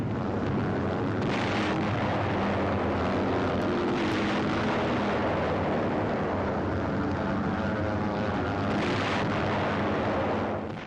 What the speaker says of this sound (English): Four Jap ships attempt futile escape as Yank dive bombers move in to give battle off Rabaul.